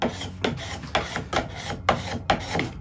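A piece of wood is being thinned down for a miter box in a steady series of rasping, rubbing strokes, about two per second, close and fairly loud.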